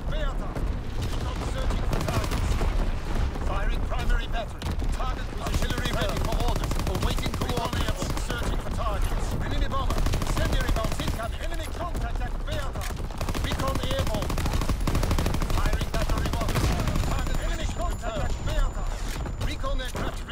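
Artillery battery fires in a World War II video game, with dense, continuous gunfire and booming shots across the whole stretch, mixed with game voice callouts.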